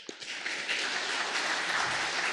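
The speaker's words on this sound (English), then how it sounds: "Give a round of applause." A church congregation breaks into a round of applause at a Sunday Easter-season service, steady dense clapping that fills the space evenly throughout.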